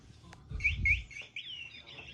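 A pet bird gives a run of bright chirps and twittering calls indoors, close and fairly clear, alongside some low thumping handling noise.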